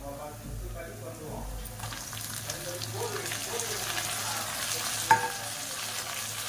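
Tomatoes sautéing with onions in a pan, a steady sizzle with stirring and scraping throughout, a brief sharp clink near the end, and a voice talking faintly at the start.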